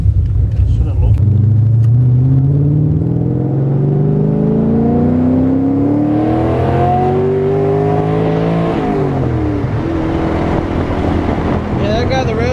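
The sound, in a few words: car engine revving to the rev limiter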